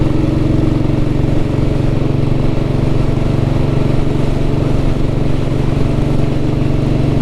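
A Royal Enfield Vintage Bullet motorcycle engine runs loud and close, a steady low thumping drone that holds unchanged throughout.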